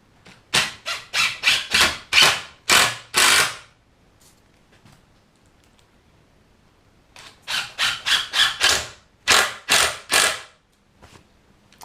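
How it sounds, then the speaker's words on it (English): Screws driven into the leg of a wooden reptile enclosure, heard as two close bursts of rapid ratcheting clicks from a driver, each run of clicks lasting a few seconds with a quiet pause between them. "I'll put my 2 screws in here."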